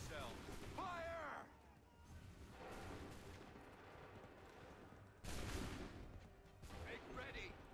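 Musket volleys crack out in the Assassin's Creed III video game, bursts of gunfire heard near the start and again around the middle, mixed with shouted commands and battle noise, under voices from the game.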